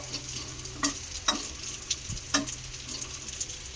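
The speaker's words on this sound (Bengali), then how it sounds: "দু পিঠ উল্টে পাল্টে বেশ সুন্দর করে খাবারটাকে ভেজে নিলাম" A semolina snack fries in oil in a pan with a steady crackling sizzle, while several sharp clinks and scrapes of a utensil flipping the pieces cut through close by.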